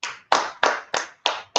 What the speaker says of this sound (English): Let's clap it up for Yahweh Shai, ain't called Jesus Christ,